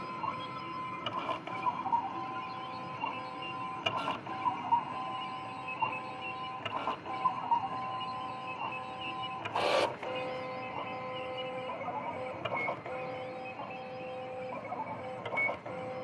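Siser Romeo vinyl cutter working through a sheet, a steady whirring motor drone with repeated stepping tones and occasional sharp clicks and one louder burst, faint and continuous with no voices.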